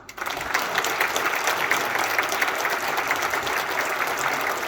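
Congregation applauding an elder during a church service, steady dense clapping filling the room from start to finish with no talk over it.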